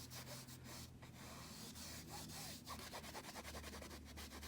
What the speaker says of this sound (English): So I'm just kind of scrubbing this into my canvas.